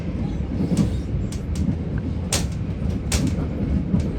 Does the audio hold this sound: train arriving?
yes